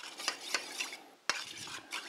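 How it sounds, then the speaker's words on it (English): A spoon stirs coconut milk, water and vinegar for satay sauce in a bowl, giving a few soft scraping and clinking strokes, quiet and close, with no voices. "And we'll just mix this all up."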